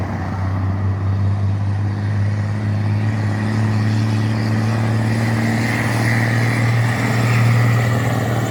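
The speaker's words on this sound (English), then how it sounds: "Old school Ford." An old-school Ford truck engine runs at a trucking spot in Fairfield, Jamaica, giving a steady, close, low rumbling drone with a slight swell near the end and no talk.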